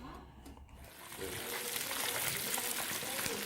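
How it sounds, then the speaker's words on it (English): Steady sizzling and crackling of fish frying in hot oil in a pan, a dense close hiss that swells after a brief quieter start. "The friends are frying fish, and here's the fried ones."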